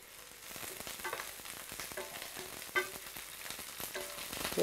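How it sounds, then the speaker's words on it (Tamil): Green chillies sizzle and crackle in a hot pan of oil, with a steady frying hiss and scattered pops from start to finish. "இந்த பச்சை மிளகாய் வறுக்க சீறி விடுவோம்."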